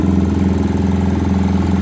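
A Yamaha R15 motorcycle with throttle-body injection and a titanium exhaust idles steadily, a loud, close, rhythmic low putter with no voices over it.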